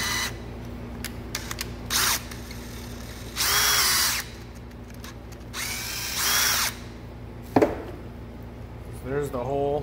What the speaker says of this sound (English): So drill a hole into this piece here, and then we'll install the rivet.